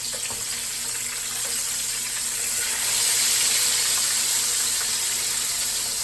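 Thin chicken fried steaks fry in a pan, crackling in an even, close sizzle that swells slightly midway and continues without talk.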